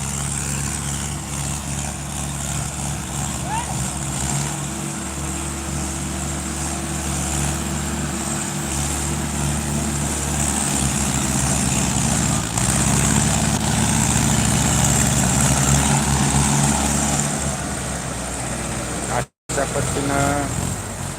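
Two tractors hitched together labour to drag a full sugarcane trolley stuck in a field, their engines droning low and steady for a long stretch, near and loud, with a voice talking over the rumble.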